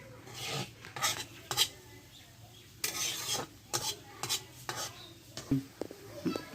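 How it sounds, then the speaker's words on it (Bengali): Metal lid set over a cooking pot of pangas fish with pumpkin in a village kitchen: a run of clattering scrapes and clinks of metal on metal, close and fairly loud, with softer rubbing between strikes and no voices. "মাছগুলো ঢেকে দিলাম করার উপরে ঢাকন দিয়ে ঢেকে দিলাম"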